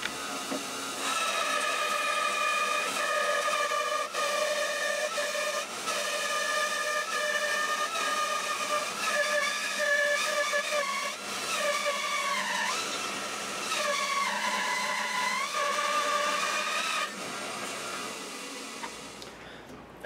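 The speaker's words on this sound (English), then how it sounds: "So I'm going to set my saw up to resaw this piece" A saw resaws a maple board into thin strips, a sustained whining cut with shifting harmonic pitch as the blade loads and eases, running steadily for about twenty seconds before stopping.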